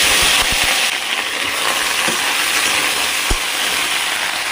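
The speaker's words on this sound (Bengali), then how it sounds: "বড়িগুলো লাল লাল করে ভেজে নিচ্ছি" Bori lentil dumplings frying until reddish in a pan, giving a steady loud sizzle with a few scraping clicks of stirring, heard alone without talk.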